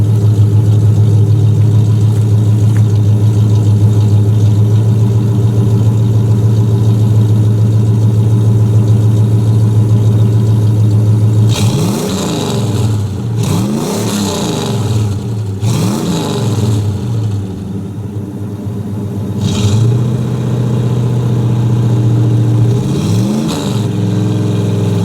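Ford F250 with a 460 engine and Hedman headers, loud and close: a steady deep idle, then several sharp revs that rise and fall quickly in succession before it settles back to idle.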